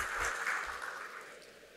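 Audience applause at a presidential speech to bankers about small-business financing: a steady wash of clapping from a large crowd, moderately loud and continuous, gradually easing in the final moments.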